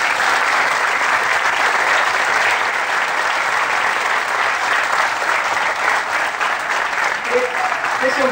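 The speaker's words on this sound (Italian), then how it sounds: "fatemi un applauso perché..." An audience applauds steadily at a live talk, a dense, sustained wash of clapping that holds at full level throughout with no break.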